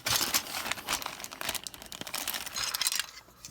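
Plastic wrapping from an AMT 1967 four-door Impala model kit crinkles and rustles up close in quick irregular bursts that fade toward the end.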